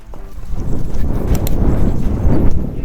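A horse lopes along with a steady, rhythmic clip-clop of hooves, loud and close, with no voices.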